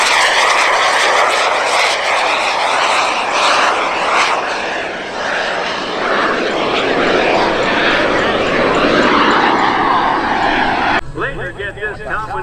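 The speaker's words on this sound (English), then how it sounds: "You're looking at a one-of-a-kind, very unique aircraft called a Subsonex Mini Jet." A Subsonex Mini Jet flying aerobatics at an air show gives a loud, continuous engine roar that rises and falls as it passes. A voice talks over it near the end.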